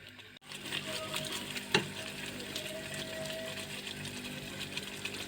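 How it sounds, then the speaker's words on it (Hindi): A spoon scrapes and stirs steadily through half a litre of milk in a pan for coconut burfi, with a soft simmering hiss beneath and one sharper clink early on, close and moderate in level. "अब इसी तरह चम्मच हिलाते रहेंगे जब तक कि दूध खुश्क ना हो जाए।"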